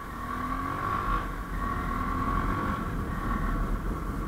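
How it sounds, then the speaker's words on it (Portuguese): A Honda XRE motorcycle engine drones while being ridden, a steady close hum that swells slightly as the throttle shifts, with wind noise underneath and no talking. "Vou ir dar uma voltinha de moto e gravar."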